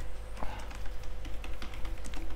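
Rapid, soft clicking of keys on a computer keyboard, typed quickly and close up over a low steady hum.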